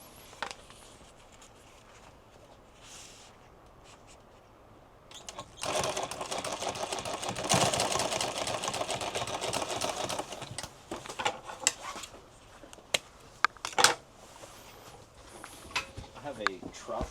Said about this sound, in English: I'm going to take and sew straight into the next one.